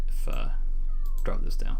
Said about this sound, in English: If you hear a cat in the background, that's my cat.